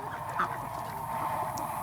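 Farm ducks quack in a brief, close cluster of nasal honking calls over a low steady background hum, with no talk.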